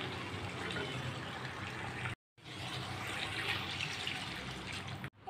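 Water is poured into a pan of cooking chicken for a lal jhol curry, a steady splashing rush broken by one brief pause before resuming.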